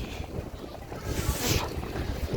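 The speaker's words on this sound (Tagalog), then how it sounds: "Grabe yung lakas ng hangin." Strong, freezing cold wind blows outdoors in the UK, roaring and buffeting the microphone in a loud, continuous rush that swells briefly midway.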